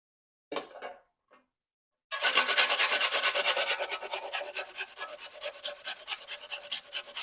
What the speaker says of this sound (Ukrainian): Починаємо з того, що кабачок, цибульку і картоплю натримо на тертушці.